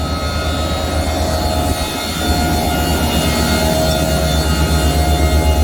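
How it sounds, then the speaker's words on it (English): A drilling rig's air compressor and fans roar steadily at close range, a dense, continuous mechanical drone with a faint tonal whine and a brief dip partway through. "We got air. Fans are running."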